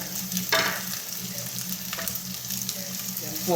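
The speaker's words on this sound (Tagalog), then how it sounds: "Ito po yung sili, oh. Susunugin po natin din ng bahagya." Chilies frying with onions in a pan, a steady close sizzle with a few louder stirring scrapes, while a voice says a few words near the start.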